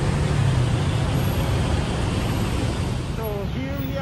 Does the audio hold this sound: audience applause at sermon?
no